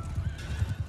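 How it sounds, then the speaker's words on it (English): Rhythmic hoofbeats of a horse galloping in Mount & Blade II: Bannerlord, fast repeated low thuds close by, with a brief whinny-like tone over them and no talk. "There's a horse over there."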